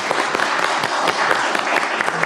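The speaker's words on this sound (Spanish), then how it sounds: "Un aplauso." Audience applause fills the room at the close of a panel talk, a steady, dense patter of many hands clapping at moderate volume with no break.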